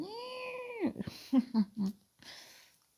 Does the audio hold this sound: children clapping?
no